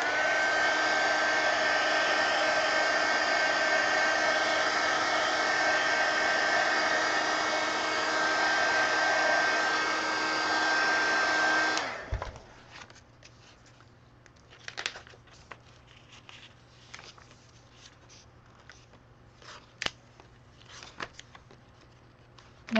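A handheld heat dryer blows loudly and steadily on a paper craft mini magazine for about twelve seconds, then switches off, followed by quiet paper rustling and small crinkles and taps.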